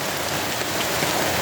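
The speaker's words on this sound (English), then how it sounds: "We don't need the rain here anymore." Steady, close rain falls on a tarp outdoors in a damp woodland, a dense, even patter with no pauses and no voices.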